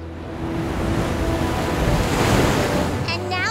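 Rushing river water surges in a loud, steady roar from an animated outdoor scene, with no voices over it.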